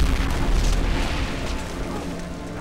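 Heavy explosions boom through a staged World War II Pacific battle scene filmed on location in Australia, with land blowing up near landing craft. A dense, continuous roar of blasts fills the whole stretch, loud and close, with no voices.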